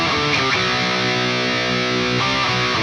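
Distorted electric guitar plays a second outro riff, a short, loud run of sustained power chords that shift pitch partway through, played solo with no talking.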